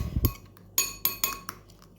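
A utensil stirs garlic and oil in a pan, giving a few sharp metallic clinks and taps against the pan, spaced irregularly and close by, with no talking.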